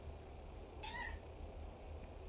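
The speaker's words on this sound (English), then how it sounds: "My cat Flash!" A pet cat gives a single short meow, faint and brief against steady low background noise, with no talk around it.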